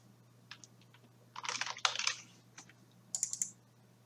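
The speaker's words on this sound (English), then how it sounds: "You just double click and start typing." Typing on a computer keyboard, short bursts of quick key clicks with pauses, close and quiet, no talk.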